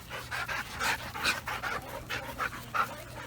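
Dogs panting close by in quick, steady breathy bursts for a few seconds, with no talk.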